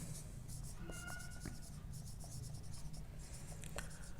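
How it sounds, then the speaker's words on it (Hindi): Chalk or marker writing on a board during a linear algebra lecture, a series of short scratchy strokes and taps under low room noise, close and continuous. "फिर स्टैंडर्ड बेसिस लिखेंगे हम।"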